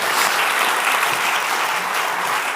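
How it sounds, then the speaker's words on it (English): Loud, sustained applause from a large crowd, dense clapping filling the whole clip without pause. "there's a big round of applause here"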